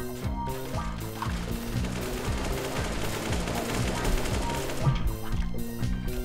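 Sustained automatic gunfire in the video game CS:GO on the Mirage map, rapid shots fired through a wall, dense and loud, with no voices.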